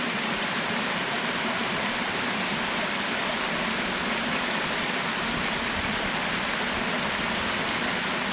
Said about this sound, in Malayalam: പിന്നെ അവിടെ കണ്ടൊരു ചെറിയൊരു വാട്ടർഫോൾ ഉണ്ട്. അത് ജസ്റ്റ് പാറമുടി വെള്ളം ഒഴുകി തന്നെ